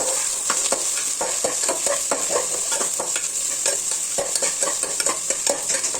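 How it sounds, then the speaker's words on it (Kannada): Chana dal, chopped onion and red chillies being stirred in a hot pan, with rapid repeated spatula scrapes and clicks over a constant sizzle, close and fairly loud. "ಕಡಲೆಬೇಳೆ ಹಾಗೆ ಹಚ್ಚಿಟ್ಕೊಂಡಿರುವಂಥ ಈರುಳ್ಳಿ ಮತ್ತು ಕೆಂಪು ಮೆಣಸಿನ್ಕಾಯಿನ ಹಾಕ್ಕೊಂಡು ನೀಟಾಗಿ ಮಿಕ್ಸ್ ಮಾಡ್ಕೊಳ್ಳೋಣ"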